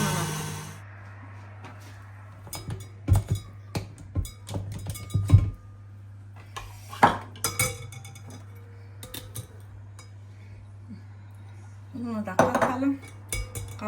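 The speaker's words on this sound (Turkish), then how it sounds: "toz şekerini ve bunu güzelce çırpalım" Sugar being whisked into batter with egg yolks in a bowl, heard as irregular bursts of metallic clinking and tapping against the bowl with quiet pauses between, close and fairly soft over a low steady hum.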